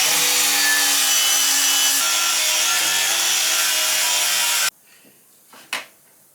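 Wire wheel on an angle grinder scraping thick underseal off a Triumph TR6 rear suspension, a loud, steady abrasive rasp that runs for several seconds before cutting out, followed by a brief clunk.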